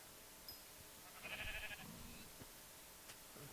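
A Minecraft sheep lets out one short bleat midway, fairly faint, over a quiet game background with a few small clicks.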